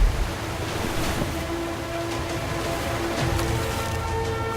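Rushing river water in the King's Quest video game forms a dense, continuous wash without pause, loud and close, with no voices over it.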